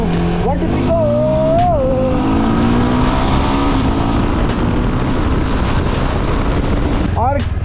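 A Yezdi Scrambler motorcycle is ridden hard at full throttle at night, its engine note rising and dropping through quick gear changes, then climbing again into a long, loud, steady high-rev drone with wind rush, heard close from the bike.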